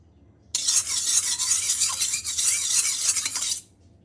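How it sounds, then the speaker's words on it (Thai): Chopped chili and garlic stir-fried in hot oil in a pan: a loud, bright sizzle that starts abruptly, crackles steadily with stirring for about three seconds, then cuts off. "ใส่พริกกระเทียมสับลงไปผัดให้หอมครับ"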